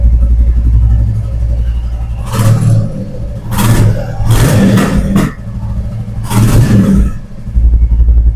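A second-hand motorcycle engine at a used bike showroom in Kolkata, idling with a close rumble and revved in three or four short bursts that rise and fall, with no talk over it.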